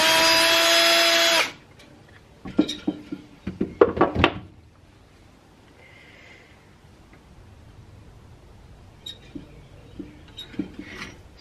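A power tool whirs loudly for about a second while a cryopump cryocooler is being taken apart, then stops, followed by sharp metallic clicks and clanks from handling parts and tools.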